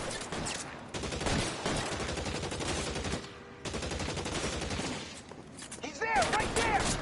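Dense, sustained gunfire from a shootout in L.A. Noire, rapid overlapping shots filling the scene with a brief lull midway, with faint game voices underneath.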